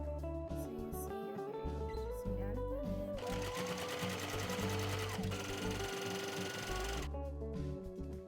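A sewing machine feeds fabric through a roller attachment, its motor whirring steadily and rising into a fast, loud stitching clatter mid-clip before easing off, with a voice and background music underneath.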